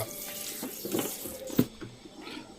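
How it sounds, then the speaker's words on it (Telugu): Water running from the inlet pipe of a home water purifier during servicing, a steady close flow with gurgles and a few small splashes and knocks. "ఇన్లెట్లో వాటర్ కరెక్ట్ వస్తుంది మంచి ఫ్లో వస్తుంది"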